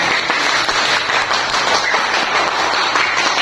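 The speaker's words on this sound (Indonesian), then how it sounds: "berikan tepuk tangan untuk kelompok" A class applauds a student group, giving a dense, steady wash of many hands clapping at a constant level throughout, with no pauses.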